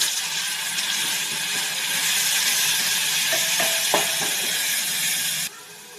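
Onion paste fries in hot mustard oil with dried chillies, giving a loud, dense, continuous sizzle close up, with a few stirring scrapes near the end before the hiss drops away abruptly.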